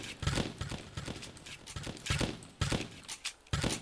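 Gunfire in the Roblox video game comes as a quick series of sharp, punchy shots in uneven bursts, loud and close, with brief gaps between volleys and no talk.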